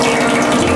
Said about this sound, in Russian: И так бежит соленая вода.